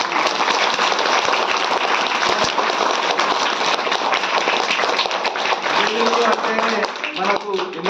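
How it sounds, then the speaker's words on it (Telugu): A dense audience claps loudly and continuously at a school event, a thick wash of hand claps filling the whole stretch, with a voice starting to speak over it near the end. "కాబట్టి గట్టిగా చప్పట్లతో"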